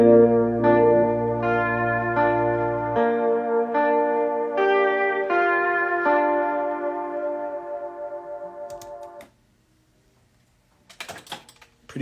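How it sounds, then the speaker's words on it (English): Music played live with an echo effect engaged: a sustained, chord-like tone with stepped notes that repeat and trail away, fading out to near silence, followed by a few faint clicks. No voices. "I think what I'm going to do is also just engage the echo at the same time."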